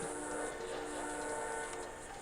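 A train rumbles past in Grand Theft Auto Online, a loud continuous rolling roar with a sustained horn-like tone throughout, no voices over it.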